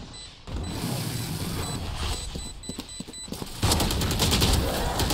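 Weapon handling in a shooter video game produces a run of light mechanical clicks, then a loud, sustained blast of gunfire near the end, over a constant background rumble.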